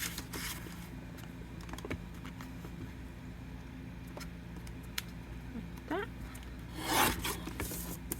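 Onion-dyed paper is trimmed for a zine, giving quiet scattered rasps and scraping cuts with one louder swipe near the end over a soft background.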